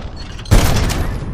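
A heavy shotgun-like weapon fired from a 40-ton mech chassis in Titanfall 2, a single sudden loud blast with a deep boom that hangs on as a dense roar.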